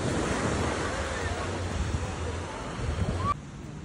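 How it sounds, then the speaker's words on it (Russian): Evening surf rolls onto the long stretch of Karon beach in Phuket, a continuous roar of rough waves mixed with heavy wind buffeting the microphone, loud and unbroken. "Вечерний пляж Карен. Со своим длинным пляжем и жесткими волнами."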